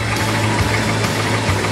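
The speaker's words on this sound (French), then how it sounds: "le moteur démarre au quart de tour sans trop fumer. Il tourne presque parfaitement" A diesel engine runs after its glow plugs have preheated, idling close up with a loud, steady knocking chug and a rhythmic low throb.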